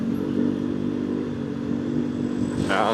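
A two-cylinder 250cc motorcycle engine drones steadily nearby with a low, even hum, its pitch rising slightly as it picks up speed.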